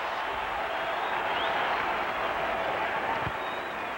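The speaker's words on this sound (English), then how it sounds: "Tremendous roar as Mo Vaughn is introduced." A packed baseball stadium crowd at Fenway Park roars as Mo Vaughn of the Red Sox is introduced during a 1998 game against the Yankees, a steady dense wall of cheering that holds throughout, with commentary audible underneath.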